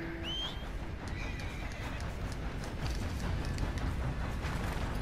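A horse named Temtem in Red Dead Redemption 2 gives a sharp whinny near the start, followed by steady hoof clatter and outdoor rumble that carries on to the end.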